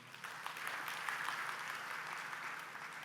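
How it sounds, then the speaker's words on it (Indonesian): Audience applause after the Vice Governor of Bali is introduced at the Bali Governor's working visit in Klungkung Regency, a steady wash of clapping held at even strength for about three seconds, fairly distant. "Tepuk tangan untuk beliau."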